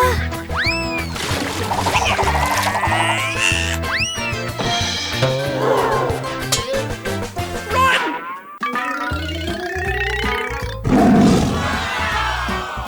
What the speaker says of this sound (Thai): นี่คือเสือชีตา